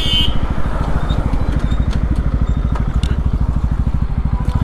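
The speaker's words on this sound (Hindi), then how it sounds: "तो फिलहाल बाइक को यहीं से टर्न कर लेते हैं" Motorcycle ride with a steady, close engine chug throughout, a dense rhythmic low-end pulse holding an even pace for several seconds, recorded on a GoPro Hero 10.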